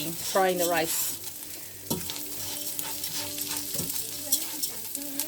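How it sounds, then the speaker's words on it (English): Rice sizzles and fries in olive oil in a pan during batch cooking, with steady crackling and occasional stirring scrapes close up throughout. "I add the rice and I'm frying the rice"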